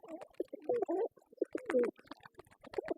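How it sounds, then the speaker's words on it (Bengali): Pigeons just released from their loft coo softly nearby in short, throaty bursts and murmurs, a few overlapping calls, with no talking. "কবুতরগুলো সবগুলো ছাড়ছি"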